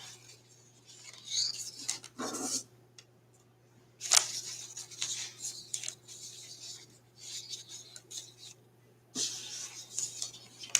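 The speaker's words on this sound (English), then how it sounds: "So I just take my scissors and cut and just bend that little piece down." Scissors snipping ribbon to make a candy apple bow: several sharp, close cutting clicks in separate bursts with quiet pauses between them.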